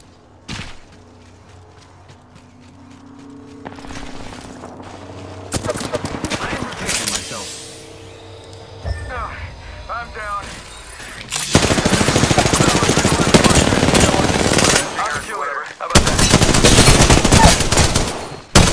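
Apex Legends firefight: sustained bursts of automatic gunfire, loud and close, broken by quieter stretches of movement and thuds, with the heaviest sprays coming in the second half.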